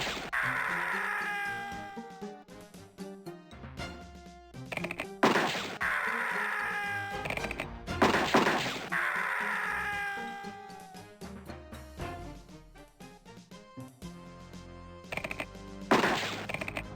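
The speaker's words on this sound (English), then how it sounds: "I shot that thing." Gunshots in the Freddy Pharkas: Frontier Pharmacist adventure game, a few sharp blasts mixed in with looping game music and cat-like meows, loud and up close, with no talk.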